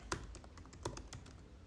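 Someone types a prompt on a Mac computer keyboard, a faint patter of individual key clicks with a few sharper taps.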